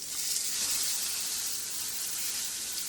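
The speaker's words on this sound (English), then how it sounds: "I'm going to sear the New York strip over it" A New York strip steak sears in a hot pan, giving a steady, close, even hiss of sizzling fat with no pauses and no voices.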